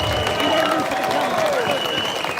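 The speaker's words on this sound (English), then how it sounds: "I want to give him a massive round of applause because he's been brilliant" Outdoor crowd at a live public protest applauding a 19-year-old speaker, a continuous rush of clapping and crowd noise with a faint tonal whine running through it.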